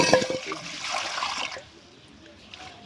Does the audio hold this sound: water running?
yes